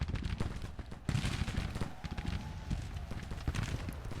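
Troops fire muskets in a Grand Tactician Civil War battle, a dense, ragged crackle of gunfire with scattered louder shots and a rumbling battlefield din. A voice speaks briefly over it.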